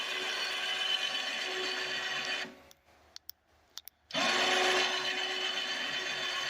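Wireless remote winch pulling a homemade sawmill carriage, a steady motor whine with a faint grinding edge that stops for about two seconds with a few clicks, then resumes.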